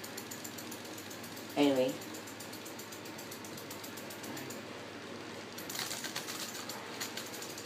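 A homemade cardboard ceiling fan runs noisily with something rubbing, giving a steady mechanical whir with rattling and scraping, a brief louder clatter early on, and someone talking over it.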